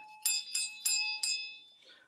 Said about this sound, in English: This one is an 8-inch handle brass bell